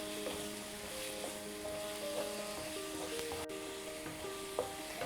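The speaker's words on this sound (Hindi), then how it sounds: "जब प्याज हल्के से पिंक हो जाएंगे तब हम इसमें लहसुन अदरक की पेस्ट डाल लेंगे और इसे मिक्स कर देंगे।" Onions fry in a pan while garlic ginger paste is stirred in for dal makhani. A soft, steady sizzle runs throughout, with faint scraping of the stirring spoon.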